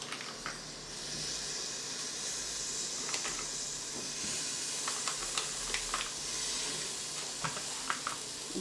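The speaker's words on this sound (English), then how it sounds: "you can already hear the sizzle" Hot dogs sizzle on a Ninja Foodi grill, a steady close hiss with scattered small pops and crackles running throughout, no talking.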